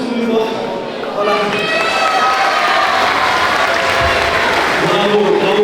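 Audience at an MMA event applauding and cheering, a dense steady wash of claps and crowd noise with voices mixed in throughout.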